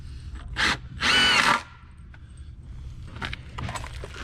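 A hammer drill whirs in two short bursts, the second longer, followed by quieter clinks and scrapes of siding work nearby.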